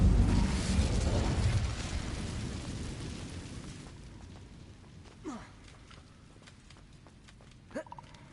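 An Incendio fire spell erupts in a Hogwarts video game, a loud roaring whoosh of flame that fades out over a few seconds, followed by faint chirps and small effect sounds.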